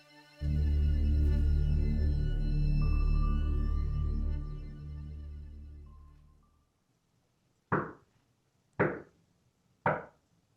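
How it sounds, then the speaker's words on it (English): Three heavy, evenly spaced thumps like stomping, recorded around 2:30 in the morning, land near the end of the clip after a long stretch of loud sustained low rumble and hum that fades into quiet. "Sounds like stomping."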